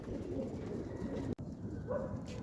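Pigeons on a rooftop at night in Imbaba give low, soft coos over a quiet background, with a single sharp click partway through.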